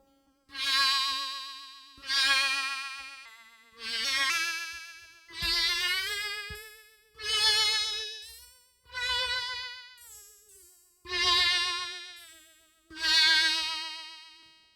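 Repeated swooshing shh bursts through a Boss RC-505 MK2 flanger, with a sweeping, jet-like flanged whoosh, about seven in a row, each rising and fading, with no talking.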